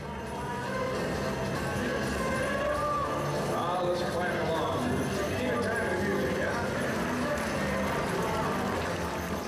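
Hooves of Percheron and Clydesdale draft horses in six-horse hitches entering the Coliseum at the Indiana State Fair, a steady clatter blended into loud arena crowd noise and announcer talk throughout.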